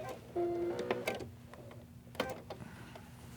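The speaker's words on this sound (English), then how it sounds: "We want to be able to sew these two guys together down here. So they are also reinforced together with that tight zigzag." A sewing machine stitches a tight zigzag while reinforcing a replacement pants zipper, producing short rattling mechanical bursts with brief pauses between them, close and fairly quiet.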